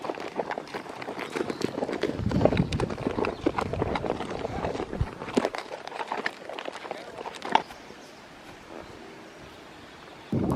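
Horse hooves clip-clopping on a trail ride near Sedona, Arizona, an irregular close series of hoof strikes with rustling, thinning out toward the end.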